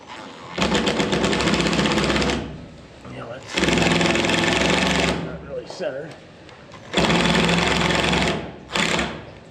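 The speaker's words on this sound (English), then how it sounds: "Drill it upside down." Three loud bursts of a power drill whirring in a milking parlor, separated by short pauses in which someone speaks briefly.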